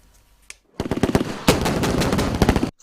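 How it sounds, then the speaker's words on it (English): Live-ammunition gunfire during a military training exercise with armored tank fire support: a single early shot, then dense rapid volleys of rifle and machine-gun fire, loud and sustained, ending abruptly. "Firing of live ammunition in real-life simulation to counter obstacle with armored tanks providing fire support"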